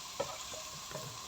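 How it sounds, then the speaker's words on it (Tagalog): Garlic and onion sautéing in a pan for sweet potato tops afritada, a soft steady sizzle with a few light stirring scrapes, faint and brief, no talk. "Gigisa ko lang po ito sa bawang, sibuyas"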